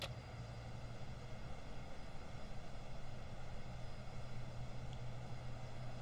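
A JARDesign A320 airliner taxiing in the X-Plane 10 flight simulator, departing Los Angeles: a steady, continuous jet engine drone with a low hum, holding an even level throughout with no voices.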